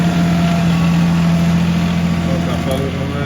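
A tractor engine idles nearby, a steady low rumbling drone with a constant hum that holds evenly for a few seconds.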